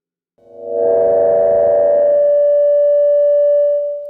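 A reverb output tone from a Behringer 2600 semi-modular synthesizer rises in, then sustains as a loud, steady pitched drone with faint harmonics, holding alone for several seconds before fading slightly.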